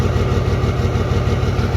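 A blown 12 valve Cummins diesel idles steadily, a loud, close, low rumbling drone with an even rhythmic chug and no talking.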